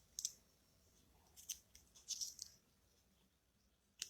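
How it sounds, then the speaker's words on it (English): Scissors snip the ribbon ends on a handmade flamingo card, a few crisp, quiet close-up cuts in small clusters with pauses between. "And then we'll take our ends and trim those off."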